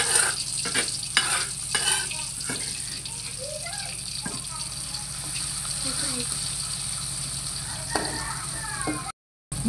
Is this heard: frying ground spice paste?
yes